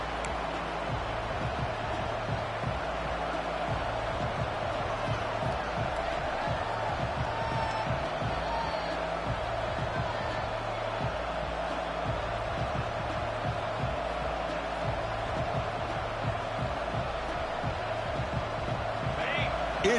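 Stadium crowd in the College Football 26 video game, a steady loud roar filling the whole clip, with a game announcer talking over it and thumping beats underneath.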